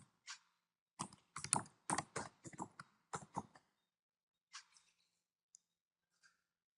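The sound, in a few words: typing a file name on a computer keyboard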